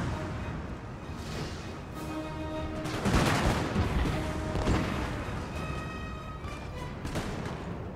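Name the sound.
musket and cannon volley in video game Napoleon Total War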